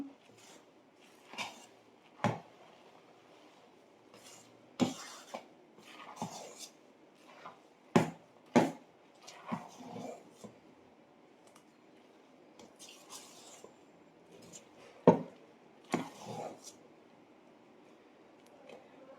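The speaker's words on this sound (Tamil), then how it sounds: "உப்பு சேர்த்துட்டு நல்லா வந்த மாதிரி ஒரு மிக்ஸ் பண்ணிடலாம்" Salt being stirred into food in a pot, with a series of sharp, irregular metallic clinks and scrapes of a spoon against the pot, fairly close, over a quiet kitchen background.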